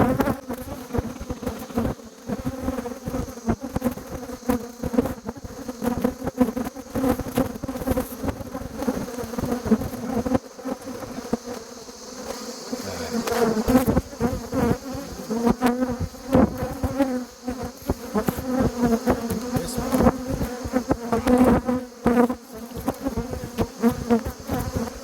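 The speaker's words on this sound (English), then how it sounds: "shaking the bees off to encourage them to stay here and not come back to Dysart with us" Honey bees buzz steadily and densely throughout as frames are shaken off at a hive, a close continuous insect drone with a brief dip in the middle.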